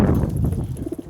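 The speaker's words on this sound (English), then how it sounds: "So yeah, these are definitely white homers." White homer pigeons at the Reading fancy pigeon show coo in soft, low, throaty bursts over a busy hall murmur, a few close rounded calls toward the end.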